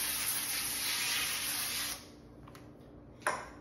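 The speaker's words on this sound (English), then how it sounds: "I'm gonna spray my parchment" Cooking spray hisses steadily onto a sheet of parchment paper for about two seconds, close and fairly loud, then stops, followed by a couple of faint clicks and one short sharp spritz near the end.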